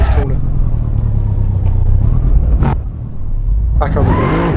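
Mercedes W213 E63S Estate in the racing game Assetto Corsa, its engine a steady loud rumble with a brief dip and a rising rev near the end, while a person talks over it.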